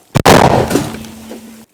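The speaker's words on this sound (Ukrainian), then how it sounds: "Гармата Д-30 вже відпрацювала." One heavy D-30 howitzer blast booms close by, a sharp crack followed by a long rumbling decay.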